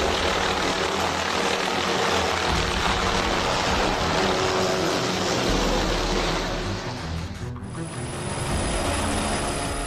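A helicopter drones loud and steady over jagged mountain rocks during a rescue operation, its rotor and engine filling the scene throughout before the sound shifts near the end.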